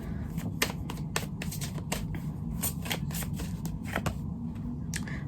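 A deck of reading cards being shuffled close by: quick riffling snaps and papery slaps repeat in an uneven rhythm over a low, steady background, with no talk.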